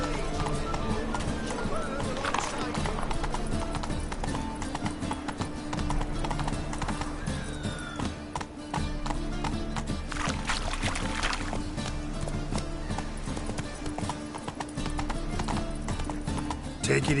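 Horse hooves clop steadily in the Witcher 3 video game, a continuous rhythmic gallop layered over game music and ambience, with a voice talking intermittently.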